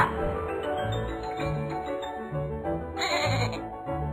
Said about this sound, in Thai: นั่นไงฝูงแกะ